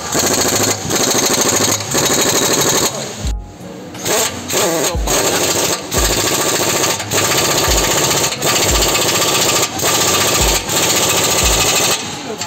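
Tightening a 17 mm bolt on the rear shock absorber of a Toyota Innova Reborn with a pneumatic impact wrench: loud, close bursts of hammering rattle repeating roughly every second, with short gaps between them.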